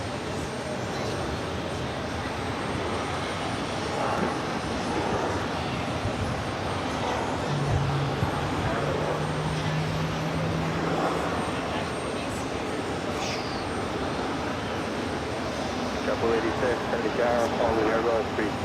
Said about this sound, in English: Emirates. It's the flight coming in from Milan